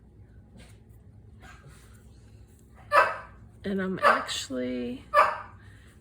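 A dog barks several times in quick succession nearby in a home craft workspace, loud sharp barks breaking over a quiet room, with someone speaking briefly just before them.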